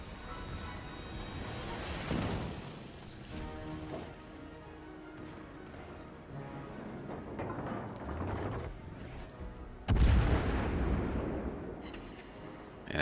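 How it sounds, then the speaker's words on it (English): Secondary battery guns on the Graf Spee warship in World of Warships Legends fire in scattered booming bursts, with one loud close blast near the end over a low rumbling background. "So my secondary batteries are getting in on the action here."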